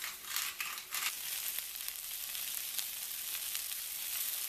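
Okra frying in a pan with a steady close sizzle, with a few soft scrapes and shifts as the contents are moved gently.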